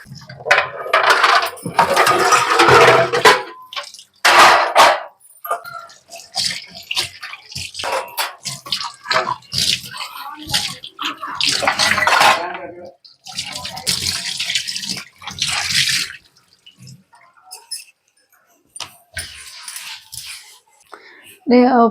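Dishes clatter and knock while water splashes and runs, with people talking over the washing throughout.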